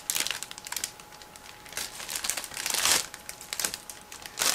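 A sealed plastic bag holding the parts of a Miniart 1/35 B-Type London Omnibus model kit is cut open with scissors. Close, irregular bursts of crinkling plastic sound alone, with no talking.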